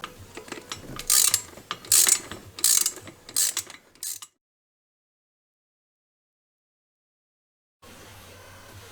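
A ratchet wrench tightens nuts on an exhaust manifold of a D22 Navara, with several quick bursts of clicking close by, followed by a stretch of silence and then faint background noise.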